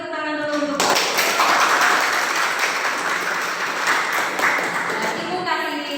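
A class gives a round of hand clapping for about five seconds, dense, steady applause from a group in a room, with a voice speaking briefly before it starts and again as it fades.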